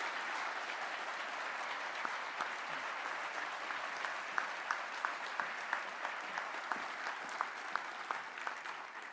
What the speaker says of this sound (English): please join me in a round of applause for Ms. Olga Munya